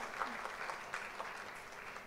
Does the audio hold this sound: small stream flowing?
no